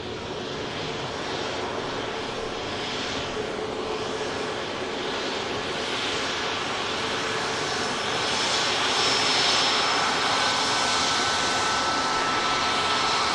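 A KLM airliner's jet engines roar steadily through the takeoff roll at Manchester Airport, a broad continuous rush heard from a distance that swells slightly toward the end.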